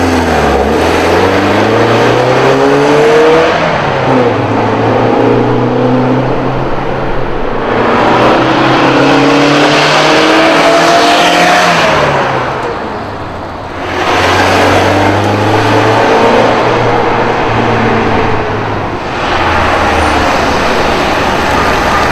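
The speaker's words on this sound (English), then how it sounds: "I'll just show a few clips of the car zipping around so you can see the exterior and hear the exhaust note from the outside" A 1973 Alfa Romeo Giulia Super drives by outdoors several times, its exhaust note rising and falling with each pass as the engine revs through the gears, loud and close with no talking.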